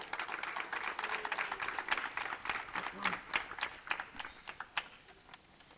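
An audience at a ceremony gives a round of applause. The clapping is soft and somewhat distant, with scattered sharp claps standing out as it tapers off, and a voice can be heard faintly beneath it.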